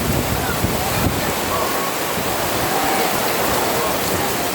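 Heavy rain pours down steadily in a dense, unbroken hiss of loud, close drumming with no pauses.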